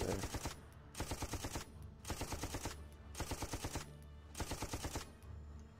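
Repeated bursts of gunfire from a weapon in Black Ops 3 Zombies, five or six rapid clusters of shots separated by short pauses, loud and steady with no talking over them.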